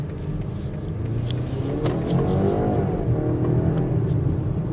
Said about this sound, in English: You can hear a little bit of that turbo blow-off valve that comes through into the cabin